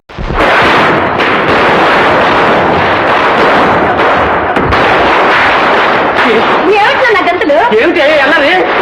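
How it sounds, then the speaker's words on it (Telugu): Dense, continuous volley of loud cracking bursts and booms from Diwali firecrackers going off nonstop; voices rise over the din near the end. "దీపావళి కదా, టపాకాయలు కాల్చిపోతే ఎలా?"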